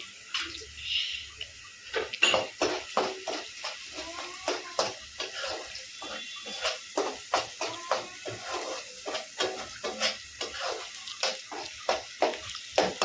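Garam masala, cardamom and cloves crackle and sizzle in hot oil. The sputtering pops come in a fast, uneven rhythm and grow louder and more regular as it goes on, with no talking.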